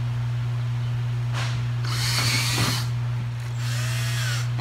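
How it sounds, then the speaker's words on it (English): A power drill bores 3/8 inch holes into a water line in short bursts of high whine over a steady low electrical hum, close up with no talk. "You wanna find where your water line's gonna be and start drilling right into it."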